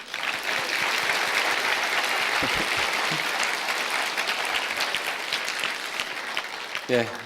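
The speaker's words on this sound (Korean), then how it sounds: "우리 박수 한번 더 보내주시죠." Steady, sustained applause from a large crowd at a church worship event fills the whole stretch, dense and even, tapering slightly near the end as a voice begins.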